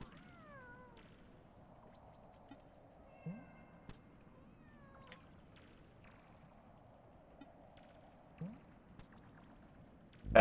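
A cat meows in the video game Animal Well, its rising and falling calls repeating a few times over a quiet, steady game background.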